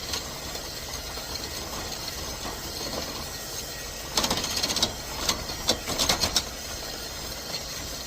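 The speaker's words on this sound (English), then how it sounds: "I've got a dehydrator going and a freeze dryer" Steady mechanical whirring and humming of a dehydrator and a freeze dryer running throughout, with a burst of clicking, ratcheting noises in the latter half.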